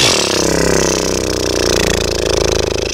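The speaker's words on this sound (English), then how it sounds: "purse my lips, horse lips, and let the breath go" Lips pursed and loosely blown through in a horse-lips breath release, a continuous buzzing flutter lasting about three seconds, close and fairly loud, with no talking.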